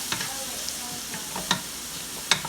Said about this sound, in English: Once it's hot, you put your onions in there.